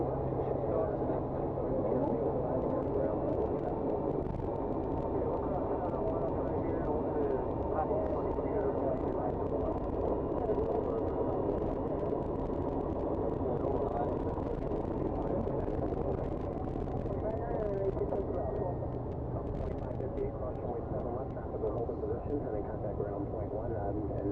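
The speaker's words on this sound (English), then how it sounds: "Takeoff A330" Airbus A330-200 cockpit during takeoff: a steady, dense engine and airflow roar continues throughout, with people talking intermittently over it.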